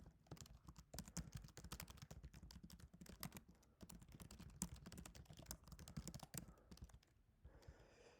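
Quiet, rapid typing on a computer keyboard, dense irregular key taps going on steadily for several seconds at close range, pausing briefly near the end.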